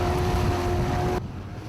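High waves in stormy weather at sea during a special forces boat infiltration, a loud continuous roar of wind and surging water with a steady tonal hum, cutting abruptly to a quieter wash partway through.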